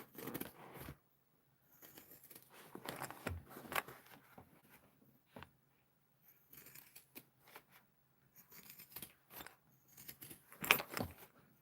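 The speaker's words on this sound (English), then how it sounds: "If I can get through these thicker layers, I need some sharper pinking shears." Pinking shears chew through thick fabric layers in quiet, uneven bursts of crunchy snipping and rustling, separated by short silences, close up with no talking.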